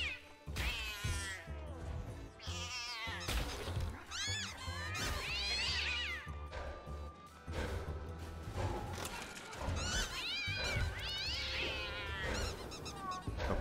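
Repeated meows from a cat in the video game Don't Die, Minerva!, close and clear, rising and falling calls spread across the span over game music, with no talk.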